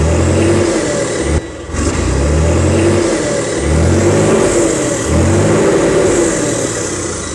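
A vehicle engine running loud and close, with steady rhythmic revving pulses and a brief dip partway through, no talk.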